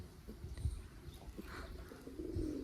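Pigeon cooing nearby, a few soft low throaty coos at uneven intervals over quiet background rustle.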